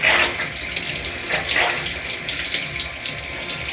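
Water gushes from a tap in an uneven stream after a water filter replacement, sputtering and spitting with short bursts of trapped air being expelled, close and steady throughout.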